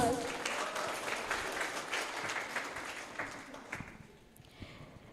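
A school conference audience claps for a few seconds, the applause thinning and fading out toward the end.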